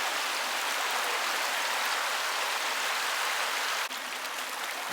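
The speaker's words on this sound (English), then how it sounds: "Look over the beautiful little creek." Small creek beside the Alamo Steakhouse in Gatlinburg, Tennessee, rushing steadily under a covered walkway, a continuous broadband water hiss that stays close and even, with no one talking.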